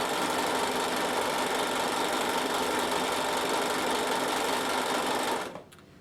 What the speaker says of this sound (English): You simply just stitch all over your fabric.